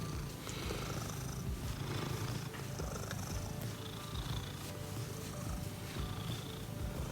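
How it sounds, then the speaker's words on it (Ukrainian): A cat purrs continuously up close, a low steady rumbling drone with no voices. "І Аліса, яка мурчить і мурчить"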